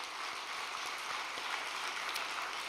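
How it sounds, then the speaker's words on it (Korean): Audience applause at a Korean religious gathering, a dense, even patter of many hands clapping continuously, moderately distant and without voices. "박수 부탁드리겠습니다"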